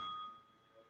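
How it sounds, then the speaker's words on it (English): A meditation bell rings once with a clear, sustained tone that decays over under a second, alone and fairly soft. "Allow that bell to wake us up"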